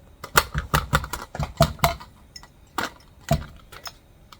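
Green beans are packed into a wide-mouth pint canning jar, giving a run of sharp clicks and knocks in irregular bursts, close and fairly crisp, with short pauses between clusters.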